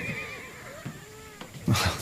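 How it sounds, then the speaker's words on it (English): Horses neighing and whinnying in a period film about the 1883 Krakatau eruption, a thin high whinny early on, then louder bursts of agitated neighing and snorting near the end. "The horses are out of control."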